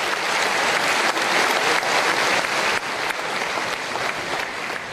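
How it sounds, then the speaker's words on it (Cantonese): Sustained applause from the audience at a trade union general meeting as Leung Chun-ying attends. The clapping is dense and steady throughout, with no voices standing out above it. "受到在場人士多次拍手歡迎"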